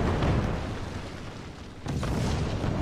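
Massed 20mm cannon fire in the game Forts, a dense rumbling barrage of booms that eases briefly and then surges again near the end.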